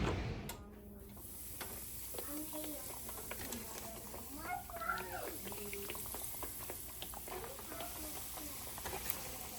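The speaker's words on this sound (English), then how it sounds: "We already got them on the stove, cooking up." Freshly caught fish frying in a pan on a home stove, giving a faint, steady sizzling hiss throughout, with a cat meowing a few times over it.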